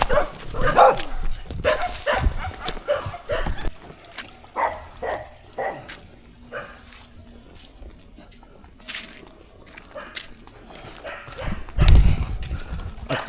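Several dogs bark at a nature camp in Liliw, Magdalena, with irregular bursts of loud and fainter barks scattered among footsteps and outdoor noise, a louder flurry near the end.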